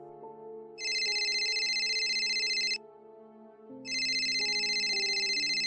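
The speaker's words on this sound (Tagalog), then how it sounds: "kalit lang ni ring ang cellphone sa lamisa" A cellphone lying on a table rings with an electronic ringtone, two sustained bright bursts separated by a short pause, sounding over a soft low musical drone.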